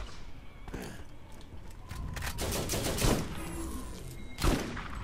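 Gunfire in the video game Borderlands, a few scattered shots and bursts over a busy game soundscape, with one sharper loud blast near the end.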